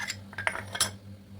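Dishes set as lids over yogurt containers give a few light clinks and taps of crockery, spaced irregularly over about a second and a half, close and fairly quiet.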